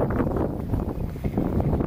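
Steady wind blows outdoors in an open field during metal detecting, buffeting the microphone with a continuous low rumble and no talk.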